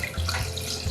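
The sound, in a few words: water poured into gravy mixture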